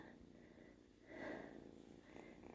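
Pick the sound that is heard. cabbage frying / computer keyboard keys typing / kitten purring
kitten purring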